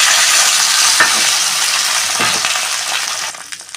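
Spices with a dried red chilli and a bay leaf stirred and fried in hot oil for a Bengali fish gravy, with tomato going in; a loud, continuous sizzle with scraping stir strokes, no talking.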